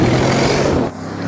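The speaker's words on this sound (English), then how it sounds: "When you're driving along and you've got the car in sports mode and you accelerate, this thing sounds incredible." Audi RS6 engine accelerating hard in sports mode, a loud, full roar that holds steady and then drops away abruptly near the end.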